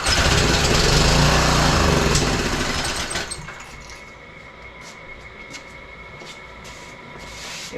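The small engine of the Tommy Gun sputters into a loud, buzzing run at first, then drops after a few seconds to a quieter idle with faint ticking, and no voices.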